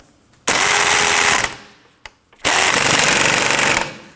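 An impact gun works the sway bar link nut on a 2003-2014 Volvo XC90, firing two loud, sustained rattling bursts of about a second each, separated by a short gap with one brief blip, with no talk.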